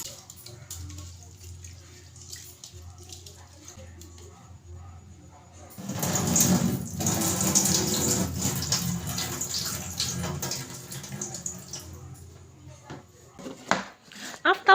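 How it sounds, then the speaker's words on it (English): Rice being washed: water runs and splashes in a container with soft clinks, starting quietly and growing louder midway, then fading with a few sharp knocks near the end. "Make sure to wash it thoroughly with clean water."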